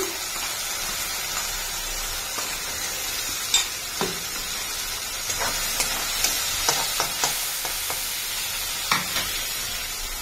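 Tomato paste frying in a hot pan, with a steady sizzle and hiss and intermittent scraping clicks of a spoon stirring it, close and alone.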